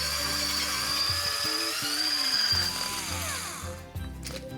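An electric whisk beats two eggs, two yolks and 250 g of sugar to the ribbon stage for chocolate cannelés, a close, high whirring motor whose pitch shifts and wobbles before briefly dropping away.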